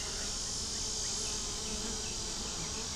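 Honey bees buzz on a hive frame, a dense steady swarm drone close and continuous with the whine of many wings layered together throughout.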